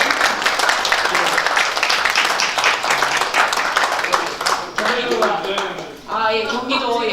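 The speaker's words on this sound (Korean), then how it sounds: "위원장님들 오신 분들 잠깐 격려의 박수 부탁드리겠습니다" Applause for party chairpersons at a Democracy and Peace Party central steering committee meeting: a dense, steady wash of clapping from the room that thins toward the end as a voice begins speaking over it.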